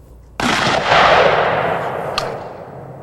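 A 12 gauge shotgun fires a Dragon's Breath magnesium incendiary round, a single loud blast followed by a long roaring, hissing burn that slowly fades, with a brief sharp crack near the end.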